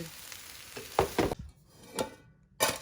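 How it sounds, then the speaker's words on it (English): Sugar being stirred into a sweet soy sauce mixture for steamed rice, heard as a few short scraping strokes of a spoon against the pot, separated by brief pauses, close and moderately loud. "just add sugar. Give it a good stir."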